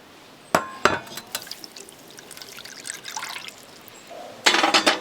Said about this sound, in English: We're gonna add 1 cup of warm water to this.